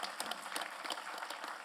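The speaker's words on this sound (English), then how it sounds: "let's give those guys a round of applause" A room of attendees applauding at a memorial symposium, a steady, brisk clatter of many clapping hands throughout.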